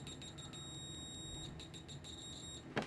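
A shrill continuity beep from a cheap NJTY 9208T multimeter stutters on and off in rapid, scratchy bursts, close by, ending with a short clack.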